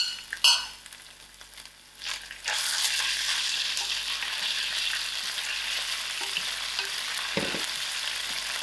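Curry leaves, ginger garlic, mustard seeds and methi seeds frying in hot oil: a brief rustle and clink, then a loud, steady sizzle that fills the rest of the clip, with one dull knock near the end.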